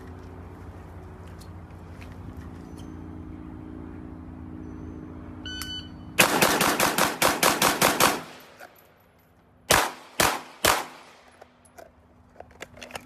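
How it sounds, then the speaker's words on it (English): A rifle then a pistol are fired in a timed shooting drill: after a quiet start with a beep, a rapid string of loud, close shots rings out, then a pause and a few more spaced shots. "this time I'm gonna run 5 rounds to the left with the rifle, 5 rounds to the right with the rifle, transition to the pistol"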